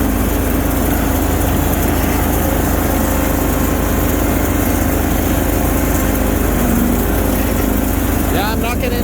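Bolens 1600H garden tractor with a 20HP Briggs engine, wheels and chains spinning in deep snow: a loud steady engine drone, close and continuous, with a voice talking over it.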